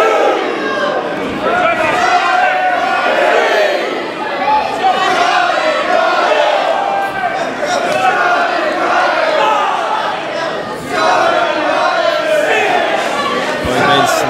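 A wrestling crowd at an EPW Coastal Championship match chants wrestler Scotty Ryan's name in a loud, steady, rhythmic chorus that fills the arena throughout, with scattered shouts on top.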